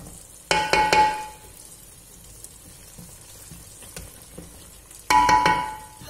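A spoon scrapes and stirs taro curry in a pot in two short bursts of clanking and scraping, with quiet low sizzling between them.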